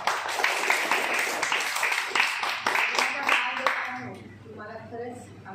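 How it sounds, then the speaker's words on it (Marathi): A school audience at a children's environmental play festival breaks into loud clapping that holds for about four seconds, then fades out as a voice begins speaking. "जोरात टाळ्या."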